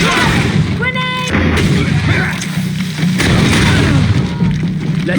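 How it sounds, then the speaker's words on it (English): A loud, booming grenade blast in the video game GreedFall, heavy and sustained amid combat noise with ringing tones, no speech over it. "Grenade!"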